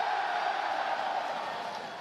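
An audience at the Blizzcon convention cheers loudly, a sustained roar of voices and whoops for a couple of seconds that fades slightly at the end.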